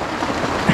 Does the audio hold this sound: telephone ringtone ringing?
no